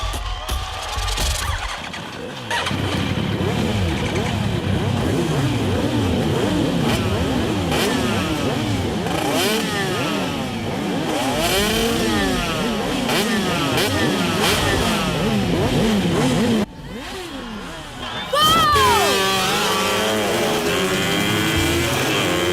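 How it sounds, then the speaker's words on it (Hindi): Motorcycle engines rev and scream in a bike stunt scene from an action movie, several loud, rising and falling whines overlapping continuously, briefly dropping out before one engine surges again. "ये कौन है जो बाइक हवा में उड़ा रहा है?"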